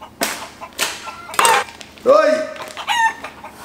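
Chicken clucks and a rooster's crow come in short, close, loud bursts separated by brief pauses, with a person's brief exclamation among them.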